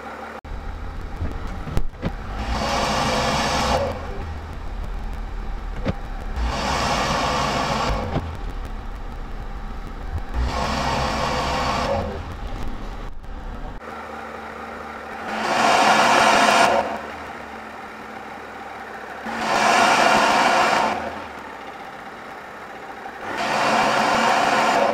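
Car engine with a 10L80 automatic transmission runs through a torque converter stall test, surging in loud revving bursts several times, each held for a few seconds then dropping back to a steadier idle hum.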